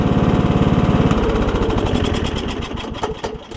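The engine of a Troy Bilt Bronco lawn tractor runs close by with a loud, rhythmic chugging that loosens and turns uneven partway through, dropping slightly in level toward the end. No one speaks.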